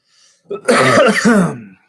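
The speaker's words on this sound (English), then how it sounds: "Sorry about this cough." A close, loud, rough cough or harsh throat clearing lasts about a second, then fades away.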